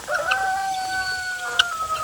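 Guinea fowl calling near a chicken coop, a couple of harsh, ringing squawks up close, the second one sharp and brief, with no voices.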